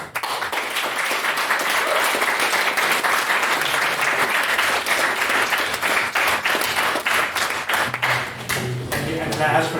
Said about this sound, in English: Can I ask for another round of applause to Mark?